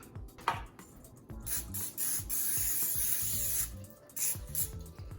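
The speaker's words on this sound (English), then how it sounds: "I'll probably spray it a little bit too" Cooking spray hisses from a can onto a parchment-lined baking sheet in a kitchen, a few short and longer close bursts of airy spray separated by quiet handling noises.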